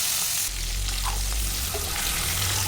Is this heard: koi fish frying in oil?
yes